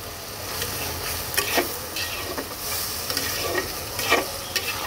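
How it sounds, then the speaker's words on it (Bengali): A spatula stirs ridge gourd and koi fish curry in a pan, with repeated scraping strokes over a continuous sizzle, close and fairly loud, without any voices. "এইবার মিক্স করে দেব সুন্দর করে। এটাকে একটু নাড়াচাড়া করব।"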